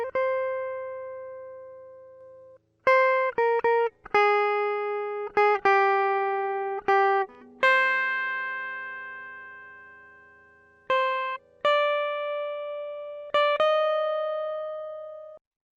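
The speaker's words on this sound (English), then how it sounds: "What we have here is a mono track, is a guitar track." A dry mono guitar line with no effects plays simple single notes, clean plucks with sustained tones separated by short gaps and pauses, isolated and fairly quiet.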